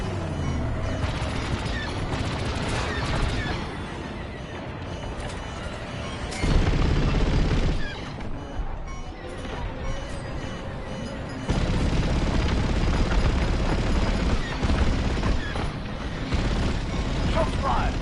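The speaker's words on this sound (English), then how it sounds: "Shots fired." Blaster fire rattles through a fleet battle in Star Wars Squadrons, repeated bursts and booms layered over a dense rumbling din, with voices talking at times.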